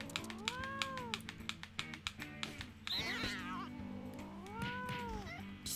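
Morgana, a pet cat, meows twice, clear and drawn-out, over steady game music and rapid controller clicks during play of No More Heroes 2.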